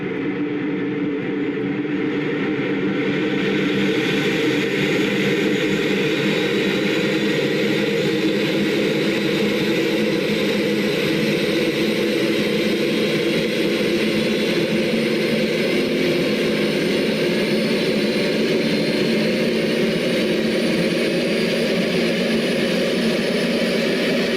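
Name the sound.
Airbus jet engine running, flight simulator video game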